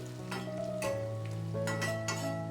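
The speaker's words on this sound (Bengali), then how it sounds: "পেঁয়াজটাকেও কিন্তু একটু লাল করে ভেজে নেব" Chopped onion fries in a pan, browning in oil for a soya chunks curry, a steady sizzle running beneath bursts of stirring and faint metallic scraping, with background music layered over it.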